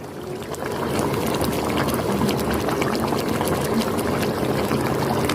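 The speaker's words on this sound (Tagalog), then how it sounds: "kumukulo na po" Pot of Bicol Express with fried milkfish bubbling at a steady boil, a continuous close simmering hiss with small pops throughout, growing fuller after the first half second.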